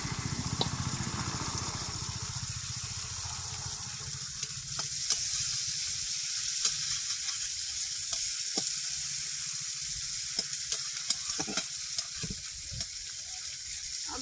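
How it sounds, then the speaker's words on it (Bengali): Chopped garlic and green chili with bay leaf crackle and sizzle steadily in hot oil in a wok, a continuous close frying hiss with scattered sharp pops and a low stirring rumble underneath. "কড়াইতে তেল দিলাম তেজকুচি দিলাম তেলটা গরম হয়ে গেছে তেজকুচি দিলাম রসুন কুচি দিলাম কাঁচা লঙ্কা দিলাম"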